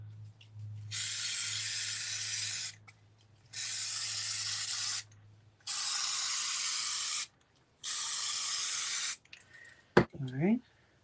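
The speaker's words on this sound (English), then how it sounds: "And this time I'm just spraying the edges." A spray can mists the edges of a graduation cap topper in four long, close hissing bursts separated by short pauses, followed by a brief clatter at the end.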